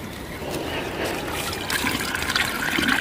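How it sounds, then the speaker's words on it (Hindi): Water pours and splashes into a bucket, a continuous gurgling, trickling rush that grows slightly louder and more bubbly as it fills, close and without talk. "अब इसमें पानी भरते हैं"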